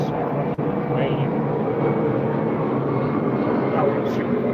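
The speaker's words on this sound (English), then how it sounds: "Another loud, annoying ass plane." A loud airplane passes low overhead as a steady, broad roar that fills the whole stretch, while someone talks over the noise.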